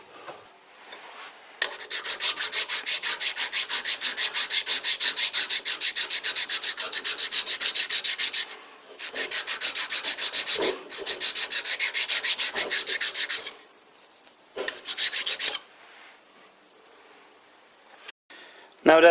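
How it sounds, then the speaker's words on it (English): Metal workpiece chamfered by hand with a file, rapid rhythmic rasping strokes in long close bursts separated by short pauses. "I guess I'll have to chamfer that by hand now"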